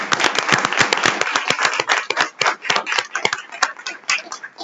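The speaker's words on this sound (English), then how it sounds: "let's give them all a round of applause" A school board meeting audience gives a round of applause, with a quick crowd of sharp, closely spaced hand claps that are loud at first and thin out near the end.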